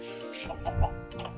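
Minecraft chickens clucking in short, close game sound bursts, several soft clucks in quick succession with no talk over them.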